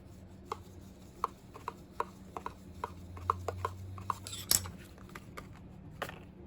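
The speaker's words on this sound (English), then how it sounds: "Get my bone folder and push that in" A bone folder presses paper into place on a handmade faux tooled leather paper gift purse, giving a steady run of crisp, close taps and clicks at roughly even intervals over a low background hum, with no talking.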